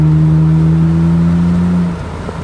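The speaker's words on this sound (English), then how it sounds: "I was just letting you hear the exhaust." A 2010 Nissan Maxima with a 3.5L V6 hums steadily through its exhaust at light throttle, a smooth low drone that eases off and dips near the end, heard from inside the moving car.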